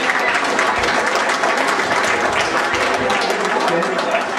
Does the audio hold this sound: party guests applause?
yes